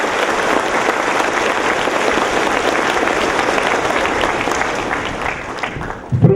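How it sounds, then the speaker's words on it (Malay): School students seated in a secondary school hall in Perlis, Malaysia, applaud loudly for a royal visitor, a thick continuous roar of many hands that tapers off near the end. "untuk memberi tepukan yang gemuruh kepada diri Tuanku."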